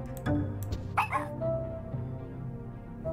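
Dog barking and yipping in the video game Storyteller, a few sharp close barks early on followed by softer whimpering tones over a quiet background.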